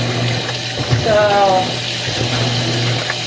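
A loaner washing machine fills with water on its Quick Wash cycle for a small load, a steady rushing hiss running throughout while a person talks over it.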